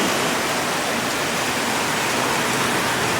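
Heavy rain pours during flooding in Abidjan, Côte d'Ivoire, a loud, dense, unbroken hiss of downpour filling the whole stretch with no voices.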